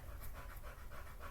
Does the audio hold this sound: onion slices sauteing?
no